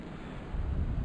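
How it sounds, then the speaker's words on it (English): Strong wind roars and buffets against the microphone, a low rumbling gust that swells louder midway through. "stupid, windy day. It's just howling."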